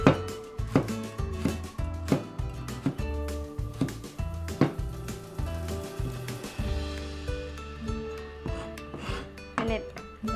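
A knife slices through washed, dried kale stems, giving a series of sharp cutting taps and scrapes against a board, mixed with background music and ringing kitchen sounds.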